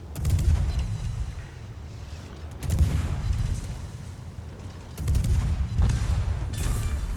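Heavy, booming salvos of warship main guns in World of Warships, with an Ostergotland firing at an Iowa. Three loud rumbling blasts come at intervals, each fading into a low roar.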